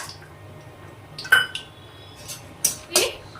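A spoon works spices in a cooking pot for a home birthday meal, giving a few sharp metallic clinks and scrapes spaced over quiet background.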